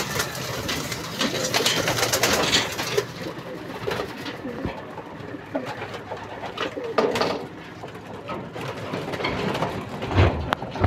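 Racing pigeons coo and flutter close by at their loft amid a busy, rustling background, with wingbeats and scattered bird calls, no talking.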